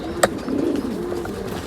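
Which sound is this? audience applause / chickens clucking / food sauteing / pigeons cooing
pigeons cooing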